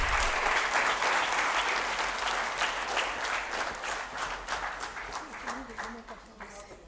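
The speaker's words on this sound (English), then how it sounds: "A round of applause from each one of you, please." A crowd applauds at a World Accreditation Day ceremony in New Delhi, dense clapping starting loud and gradually thinning, with a voice speaking faintly underneath near the end.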